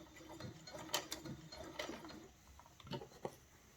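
A sewing machine forward stitching a seam whirs in short uneven bursts with clicking mechanical ticks, soft and close, without talk.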